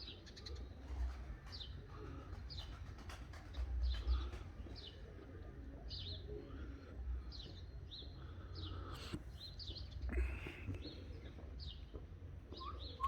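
Soft repeated cooing from doves or pigeons at a gentle rhythm, with light chirps and faint rustling in the background.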